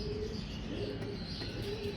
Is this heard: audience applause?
no